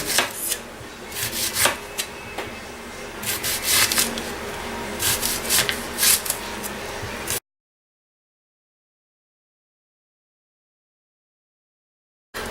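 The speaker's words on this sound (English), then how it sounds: "We're just going to take our onion and we're going to slice it." Knife slicing a red onion into thin rings on a board, with a run of quiet, irregular cutting taps and rubs over about seven seconds, then silence.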